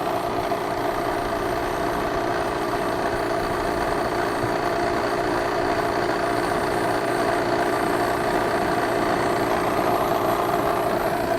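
A repaired waste oil burner running with a steady, unbroken roar and low rumble, loud and close, holding an even level throughout with no pauses or talk.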